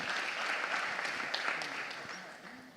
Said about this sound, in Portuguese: e mais uma vez, aplaudimos o Senhor